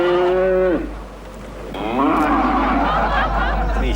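Buffalo mooing loudly and close, two long drawn-out lowing calls separated by a short lull, the second rising and rougher.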